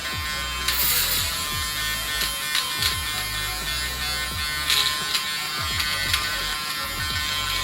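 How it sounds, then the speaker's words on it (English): A small Panasonic electric nose hair trimmer buzzes continuously up close, its whine rising and muffling now and then as it shifts against skin. "right here I have a nose hair trimmer from the Panasonic brand"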